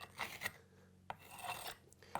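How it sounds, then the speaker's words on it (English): A steel jointing tool rasps along mortar joints in brickwork for a brick barbecue, making close, steady scraping strokes that repeat in short passes. "it's rubbing it nice and tight, pushing that mortar really deep into that joint"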